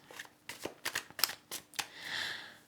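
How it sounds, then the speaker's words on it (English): Tarot cards shuffled by hand in a quiet room: a run of crisp riffling snaps and slaps at uneven intervals, ending in a longer soft hiss of cards sliding together. "I am going to pick some tarot cards for us."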